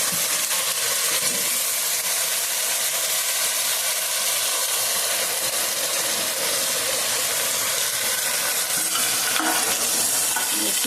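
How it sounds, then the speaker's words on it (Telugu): Flat beans and tomatoes are stirred in a frying pan with onions and green chillies, giving a steady close sizzle and hiss with scraping stirs throughout. "బాగా కలుపుకోవాలి"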